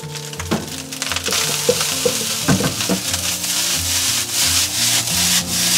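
Sprouted-vegetable fried rice with egg and soy sauce is stir-fried in a wok: repeated scraping, rubbing strokes of a spatula against the metal over a sizzling hiss, loud and close, in an irregular tossing rhythm, with no talking.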